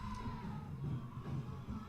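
A Salina high school football crowd, a faint, distant wash of cheering and crowd noise that holds steady through the moment without standing out sharply.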